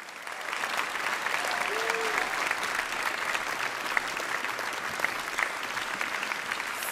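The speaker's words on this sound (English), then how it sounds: "please give an line of applause for the organizers behind the scenes" Sustained, steady applause from an audience at the opening ceremony of a human rights film festival in Berlin, honoring the organizers. The clapping is dense and even throughout, with a faint murmur of crowd noise underneath.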